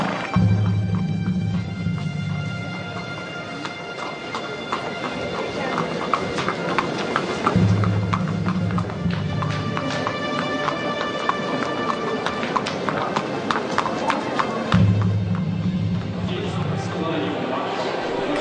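Racehorses galloping in a race, a steady drumming rush of hooves under loud crowd and commentary noise, with a French commentator talking throughout.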